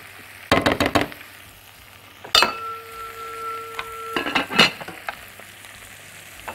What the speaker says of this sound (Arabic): هبتدي برضو هنا احط قطع اللحمة